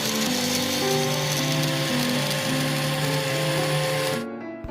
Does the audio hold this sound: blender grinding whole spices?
yes